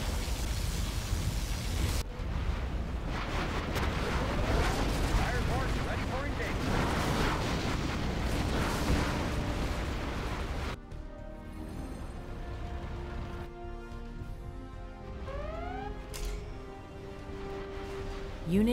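Heavy, continuous booming blasts and rumbling particle cannon explosions in Command & Conquer Generals Zero Hour fill the first part, then give way to scattered zaps, pops and sweeping synthetic tones.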